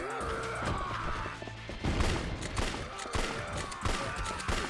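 Smoke and flashbang grenades go off in the Yakuza 3 video game amid chaotic bursts of crashing, popping impacts and fight noise, with a person talking over the action.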